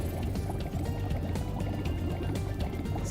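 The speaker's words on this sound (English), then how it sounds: "Hey, I added water." Steady liquid filling sound in Spyro Reignited Trilogy as water is added in Aquaria Towers, a continuous low gurgling rush that stays even and fairly quiet throughout.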